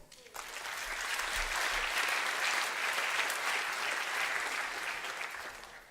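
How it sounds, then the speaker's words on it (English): A conference audience applauds a speaker taking the stage for a talk on Django and the testing pyramid. The dense, steady clapping starts abruptly and holds for several seconds before easing off slightly, with no voices over it. "A big round of applause for him."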